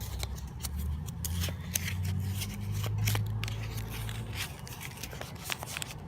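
Paper being folded by hand into a fidget toy, with soft crisp creases and rustling close by, a string of small scraping and crinkling sounds in uneven rhythm.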